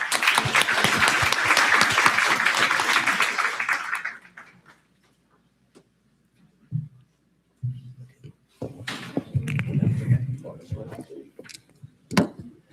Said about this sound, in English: I want to put a round of applause for all of the speakers